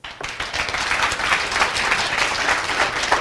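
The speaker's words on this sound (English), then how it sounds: "Give him a round of applause" An audience breaks into steady, dense applause at a hypnosis stage show, a continuous wash of many hands clapping that holds loud and even throughout, with no voices standing out.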